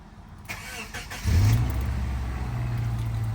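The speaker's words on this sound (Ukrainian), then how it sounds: "Ще не поїхали, поки що тільки завожу." A car engine cranks with a few thumps and catches at once, settling into a steady, close, low idle hum.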